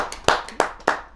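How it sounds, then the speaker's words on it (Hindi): An audience at a Holi poetry gathering claps in unison, four sharp, evenly spaced claps, loud and close, with nothing else heard between them. "एक बार ताली बजा कर"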